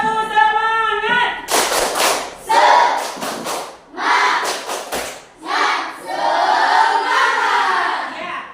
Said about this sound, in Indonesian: Coba semua, tepuk semangat.